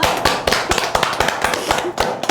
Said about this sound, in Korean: 그럼 박수 다시 쳐보지 뭐.